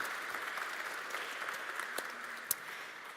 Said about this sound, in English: Yes, massive round of applause.